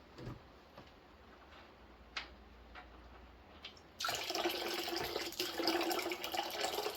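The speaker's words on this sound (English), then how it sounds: "I see water leaking out already though." Water runs and trickles steadily, close by, leaking from a seized 6.2-litre Detroit Diesel engine, with a few small ticks and drips early on before a louder continuous splashing flow takes over.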